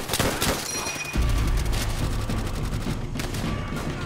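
Gunfire in the video game Call of Duty: World at War: bursts of rapid shots and booming reports fill the clip, loud and continuous, with a short lull near the middle.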